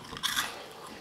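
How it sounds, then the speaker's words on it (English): A single quick crunchy bite into a vegan dark chocolate snack, close and crisp, with a short crackle right after and no talking. "They are really crunchy."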